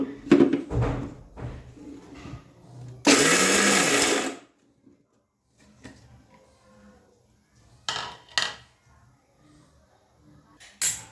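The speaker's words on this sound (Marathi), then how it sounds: "आता हे आपल्याला सगळं मिक्सरमधून काढायचं आहे" A kitchen mixer grinder whirs loudly for about a second while grinding peanuts for chutney, with brief handling knocks and quiet moments around it and no talk.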